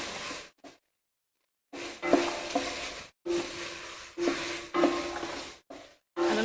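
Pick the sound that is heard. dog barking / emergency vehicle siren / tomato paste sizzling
tomato paste sizzling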